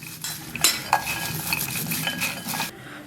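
Roasted peanuts rubbed by hand to loosen their skins, a steady dry rustling and scraping with a few light clinks against a bowl, close up and alone.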